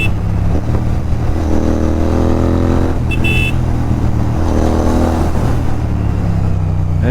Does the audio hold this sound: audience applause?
no